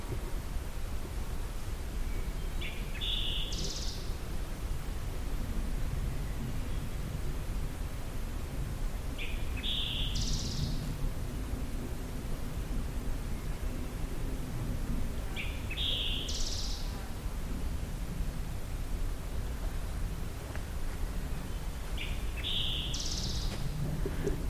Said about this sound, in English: I'm unfamiliar with this bird